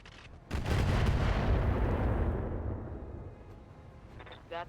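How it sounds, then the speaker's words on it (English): An artillery shell slamming into a Hunchback mech in a BattleTech-style game, a single loud booming explosion that rumbles and slowly fades, followed by a short electronic warble. "We're going to continue dropping artillery on this Hunchy."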